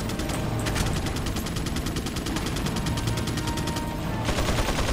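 Shotgun fire in the Resident Evil 4 remastered video game, heard as dense, continuous booming gunfire and in-game effects over a steady loud backdrop with no clear gaps between shots.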